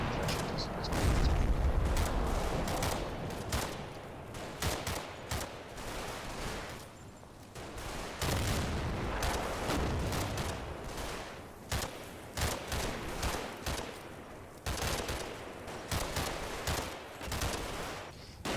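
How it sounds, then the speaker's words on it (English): Suppressive fire in a war video game, with dense, continuous bursts of rifle and machine-gun shots and distant booms layered over one another, while a voice talks over the battle. "The firebase lays down suppressive fire."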